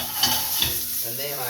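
Salmon sears in a hot pan, a close, loud, steady sizzle broken by a couple of stirring scrapes, with no voices.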